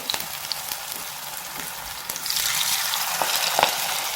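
Palak pakora batter dropped into hot oil, a quieter sizzle that swells into loud, busy crackling frying as more batter goes in, with a few sharp pops.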